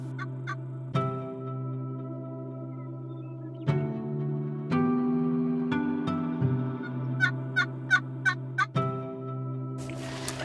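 Wild turkeys gobble near a cornfield in Nebraska, a series of loud rattling gobbles at close range, some in quick succession, followed by a burst of sharp, clucking calls.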